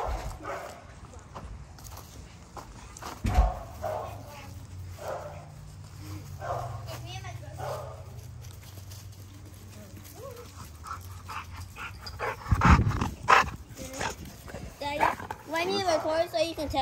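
A dog gives a few short barks and whimpers close by, mixed in with clattering and people talking at home.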